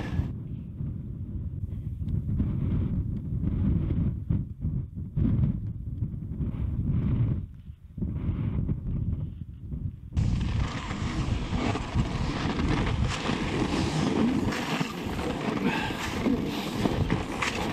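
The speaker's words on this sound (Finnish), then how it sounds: "Alkoi vähän tuulla." Wind gusts across open ground on a freezing winter ski trek, a low continuous rumble that buffets the microphone and grows much stronger and broader partway through.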